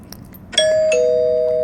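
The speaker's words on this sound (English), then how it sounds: "Doorbell" A doorbell, played as a clip in a family sound-guessing game, sounds a short chime whose second tone rings out and sustains clearly, with light background noise and no talking.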